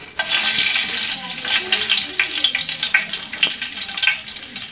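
Whole spices such as cinnamon, cloves and star anise crackle and sizzle in hot oil for an egg and vegetable biryani, a steady close frying hiss with small pops throughout.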